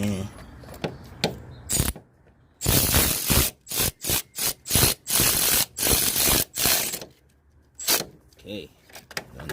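A ratchet fitted with an extension and a 10 mm socket, worked on an AC compressor of an Infiniti G35/G37/Q40 sedan, gives loud repeated clicking strokes in a rhythmic series, with someone talking around it.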